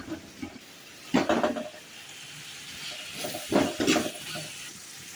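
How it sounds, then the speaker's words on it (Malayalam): Three chopped onions sautéing with salt in a pan for green pea biryani, with stirring scrapes and a soft sizzle rising in two bursts over a steady low hiss. "ചെറുതായി കട്ട് ചെയ്ത ഒരു മൂന്ന് സവോള എടുക്കുന്നുണ്ട് അത് നല്ലോണം പാകത്തിന് ഉപ്പും ചേർത്തൊന്ന് വഴറ്റിയെടുക്കാം"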